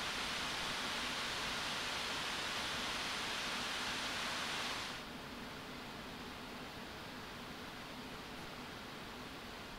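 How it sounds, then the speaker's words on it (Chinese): Steady broadband whoosh of an ILLEGEAR Vulcan NX Arctic Edition gaming laptop's cooling fans under a 3DMark Time Spy load, loud and even for about five seconds, then dropping to a noticeably quieter, softer hiss for the rest. "我这里也进行了 Turbo Mode 对比自定义风扇曲线模式在 3DMark TimeSpy 测试中的噪音演示给各位参考"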